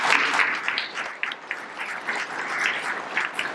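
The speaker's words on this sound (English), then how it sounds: "Ladies and gentlemen, can I ask you to give Dr. Ballard a round of applause?" An audience gives Dr. Robert Ballard a round of applause at Titanic Belfast, a moderately loud, even spread of many hands clapping that rises and dips slightly over a few seconds.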